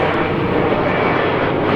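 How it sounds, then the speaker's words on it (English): A jet plane flying overhead, a loud, steady broadband roar filling the whole moment without breaks. "Is that a jet?"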